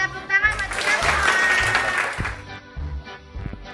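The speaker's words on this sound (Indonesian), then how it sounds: "Oke, tepuk tangan buat kita semua." A group of teachers claps during a training session, with a burst of applause mixed with voices and a low rhythmic background beat, fading into scattered claps and talk.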